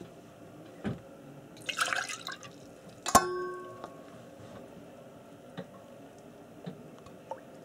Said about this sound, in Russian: сейчас специально налью вот это в прозрачную